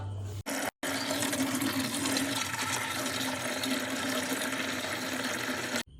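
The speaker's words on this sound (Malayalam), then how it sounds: "നമുക്ക് വെള്ളം നിറച്ചിട്ട് ബാക്കി കാണാം കേട്ടോ" Water pours into an aquarium tank being refilled, a continuous rushing, splashing hiss that runs steadily and fairly close for several seconds, with no talk.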